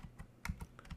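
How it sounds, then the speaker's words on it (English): Several quick, light keystrokes tap out an IP address on a computer keyboard, close and faint, in an irregular rhythm of about six clicks within a second. "I'm going to just simply type the IP address"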